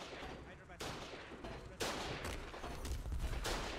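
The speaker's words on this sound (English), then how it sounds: "Listen to those explosions." Gunfire and explosions in a military video game, with sharp bursts and heavy blasts recurring over nearly four seconds, loud against a busy battle backdrop and a faint voice.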